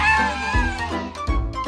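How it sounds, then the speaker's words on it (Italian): A kitten gives a few short, high meows in quick succession, close and clear with light background noise. "Sento il gattino!"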